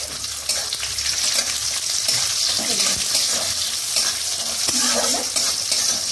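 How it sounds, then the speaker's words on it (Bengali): Cashews and raisins fry in a pan, a loud, close sizzle with the scrape and clatter of stirring running continuously throughout, occasional sharper pops and knocks breaking through the steady crackle. "দেখো আমার ভাজাটা একটুখানি হয়ে গেছে কাজুটা, এবার আমি এর মধ্যে কিশমিশ দিয়ে দিচ্ছি।"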